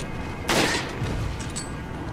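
A single sharp gunshot in Resident Evil 4 bursts out loudly near the start, followed by a fading tail and faint game ambience, with no voices.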